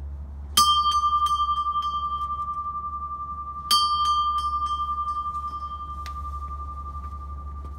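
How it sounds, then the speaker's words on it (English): A Japanese temple gong bell is struck twice, each strike bright and ringing, then sustaining with a long slowly fading hum; the second strike comes about three seconds later. "and you can ring the bell."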